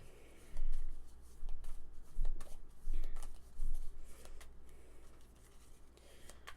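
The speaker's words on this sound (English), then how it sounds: "Ominous shuffling, ominous shuffling." Cards being shuffled during a Pandemic Legacy Season 2 board game, several close riffling bursts in quick succession separated by brief pauses, fading to quieter handling at the end.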